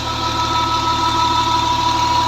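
A Romanian-made Farmer 533 65-horsepower tractor engine idles steadily up close, a continuous loud mechanical drone with a fine rapid knock running unbroken throughout.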